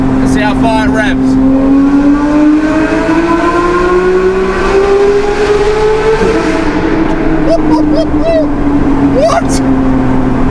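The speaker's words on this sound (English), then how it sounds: "Let's see how far it revs." A Porsche GT car engine revs high and long, a loud, sustained rising whine climbing steadily toward the top of its range and holding there, heard from inside the car with someone talking over it.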